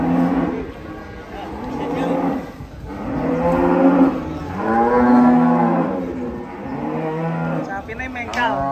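Cattle lowing loudly and close, with several long drawn-out moos in a row, some rising and falling in pitch, over a steady outdoor background.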